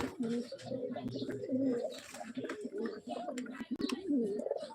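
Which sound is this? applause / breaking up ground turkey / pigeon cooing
pigeon cooing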